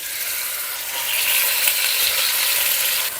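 Meat cubes searing in olive oil for an Italian meat sauce, a loud, continuous close-up sizzle and hiss that swells slightly partway through, with no talking.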